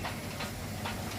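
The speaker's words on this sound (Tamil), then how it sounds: "நீராவி ஃபுல்லாக வெளியேறதை நல்லா பார்க்குறோம்." Ooty mountain railway steam locomotive venting steam during an engine test before departure, a loud continuous hiss with surging bursts.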